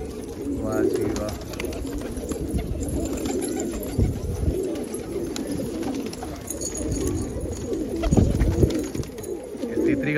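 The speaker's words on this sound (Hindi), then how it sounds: "लाजवाब कबूतरी है" A female pigeon coos in low rolling phrases close by, steady throughout with slight swells, alone without talk.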